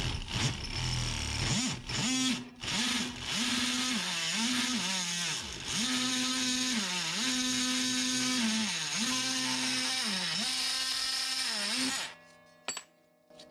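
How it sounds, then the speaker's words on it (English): A multi-tool oscillating saw cuts through an aluminum sliding screen door track rail, a loud, close buzzing whine that rises and dips in pitch as the blade bites, running steadily for about twelve seconds before stopping. "I'm going to go ahead and use the multi-tool, but you definitely do not have to use the multi-tool."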